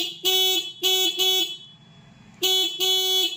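Close, loud honks from a car horn switched to single-horn mode through a relay button setup: three blasts in quick succession, a pause with faint background hum, then two more honks.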